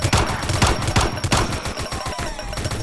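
Basic rifle gunfire in a Roblox game, heard as loud, rapid repeated shots in a continuous burst without any talking.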